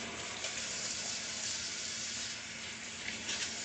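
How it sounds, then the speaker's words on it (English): Steady stream of tap water running into a kitchen sink while hands are washed, a continuous broadband hiss with small splashy variations, close and alone without talk. "I'm going to wash my hands."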